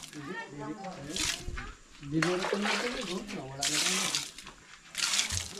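Water poured onto kitchen flooring to wet it, heard as several loud splashing surges between pauses while people talk over and around the pouring.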